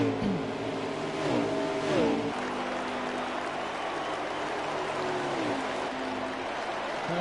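Race truck engines at Dover during a Truck Series race near the end, one engine note dropping and easing off, with several pitch sweeps of passing vehicles over a steady roaring crowd-like wash.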